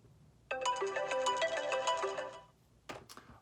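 A short, soft melodic iPhone alarm tone plays a bright chiming phrase for about two seconds, then a brief second burst begins before the clip ends, heard alone at moderate volume.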